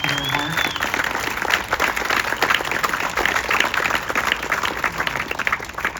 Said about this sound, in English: So please give them a round of applause for their work.